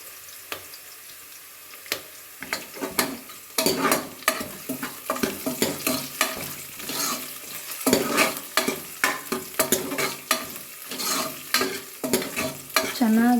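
Onions and curry leaves fry in oil for a spinach saaru, a steady sizzle broken by repeated scraping stirs of a spoon in the pan, close and clear with no talking.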